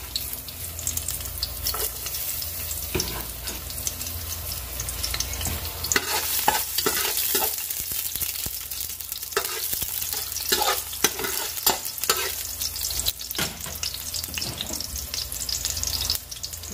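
Squid adobo cooks in a pan, with continuous frying sizzle and frequent scraping stirs, plus some watery splashing. It is close and steady throughout, and no one speaks.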